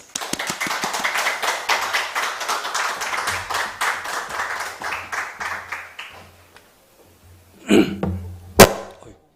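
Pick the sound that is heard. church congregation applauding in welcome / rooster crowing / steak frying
church congregation applauding in welcome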